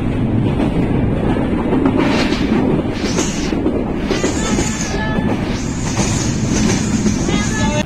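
The Panchagarh Express running from Parbatipur to Dhaka, a loud constant rumble of wheels on rails with clattering rhythm and high metallic squeals rising and falling, heard from inside the carriage.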